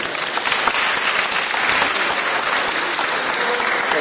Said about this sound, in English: So if you guys can just give him a round of applause.